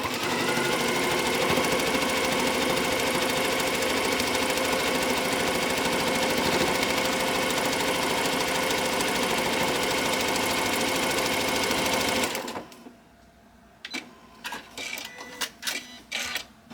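A sewing machine stitches a memory pillow made from t-shirts, running in a loud, fast, continuous whir for about twelve seconds before stopping, followed by quieter fabric handling and clicks.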